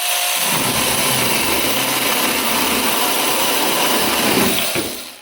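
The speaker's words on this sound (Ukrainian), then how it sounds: "пила почала різати" A cheap cordless battery-powered saw cuts steadily, a loud close motor whine with grinding rasp that runs continuously for several seconds before spinning down at the end.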